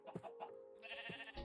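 Minecraft sheep bleat in the video game, giving several short, quiet bleats in quick succession.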